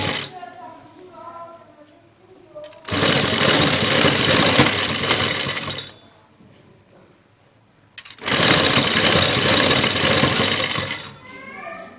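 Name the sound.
sewing machine stitching lace onto a neckline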